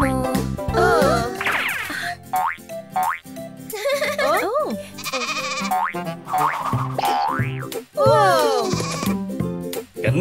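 Cartoon sheep bleat repeatedly in a Halloween-costume version of a children's nursery rhyme, loud, wavering cries spread throughout, mixed with bright, bouncy music and sung vocals.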